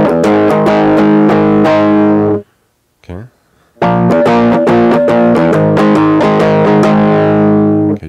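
Distorted electric guitar strums a heavy chord progression loudly, with a short pause in the middle before the chords resume; a voice speaks briefly at the start.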